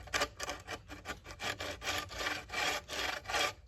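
A bucksaw, its frame built from a spare axe handle, cuts the opening kerf in wood at camp: close, steady rasping strokes in an even back-and-forth rhythm, about a dozen passes with no talking.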